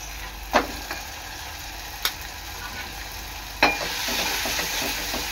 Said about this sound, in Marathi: चांगलं मसाला एकत्र शिजवून घ्यायचा आहे